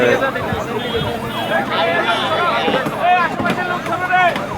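Wailing emergency vehicle siren at the scene of a bus crashing into a tree on a road, rising and falling steadily, mid-distance, under crowd chatter and talking voices.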